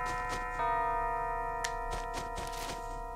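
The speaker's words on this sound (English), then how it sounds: "Top of the hour. Ding dong." A top-of-the-hour chime from the GameCube game Animal Crossing rings out as steady, bell-like sustained tones, with a brighter note entering early and holding clearly over soft background game sounds.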